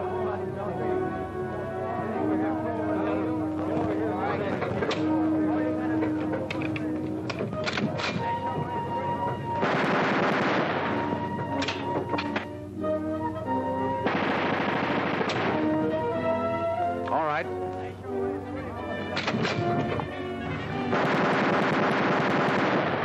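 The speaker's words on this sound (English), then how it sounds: "Pick one and fire it until it jams." Machine gun bursts from a 1940s aerial gunnery range, fired until the weapon jams, with repeated loud rapid volleys and pauses under a dense soundtrack with music and voices.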